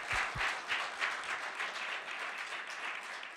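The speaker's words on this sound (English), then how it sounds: "And please have a round of applause." An audience applauds an expert panel at the close of a GFFA 2025 session, with continuous close clapping and a few sharper individual claps at the start.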